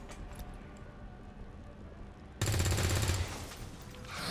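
Burst of automatic gunfire in the video game XCOM 2, loud and dense for about a second after a quieter stretch of game ambience, then tailing off.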